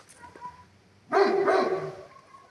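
Dog barking outdoors at night in minus twelve degree cold as a Kangal meets street dogs, a single loud near bark burst after quiet, with faint distant dog sounds around it.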